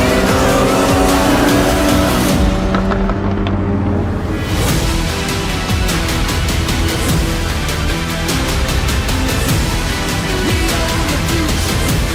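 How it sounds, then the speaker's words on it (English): Supercars race through the streets of Salt Lake City during a rally, engines roaring loudly with tires squealing and skidding, a dense, continuous wall of motor noise mixed with a driving music-like beat. "The streets of Salt Lake City quake as a legion of Crown-branded supercars make our presence known."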